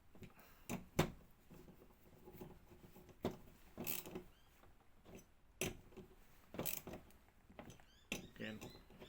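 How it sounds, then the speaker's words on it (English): Bolts being tightened on aftermarket footpegs of a BMW R1300GS motorcycle, heard as quiet intermittent metallic ratcheting clicks and short tool knocks spaced irregularly, close to the microphone. "Just go around and tighten them up."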